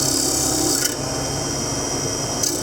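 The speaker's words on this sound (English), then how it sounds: "this is the actual bowl chisel, and I get to go in from this angle" A bowl chisel carves into a small wooden tray, producing a loud, continuous rasping scrape up close, with two brief sharper catches along the way and no speech.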